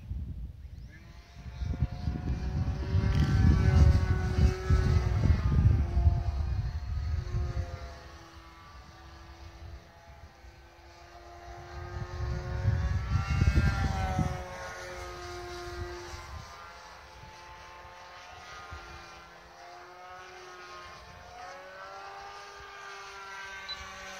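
An RC plane with a propeller, a Blitz RC Sorceress flying aerobatic maneuvers outdoors, drones overhead with a rising and falling whine that swells loud twice as it passes close, then fades farther off.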